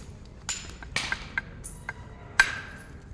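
Sharp stone-on-stone knapping strikes with a hammerstone while shaping a bifacial lithic tool, several distinct close clicks spaced irregularly, with one louder crack near the end.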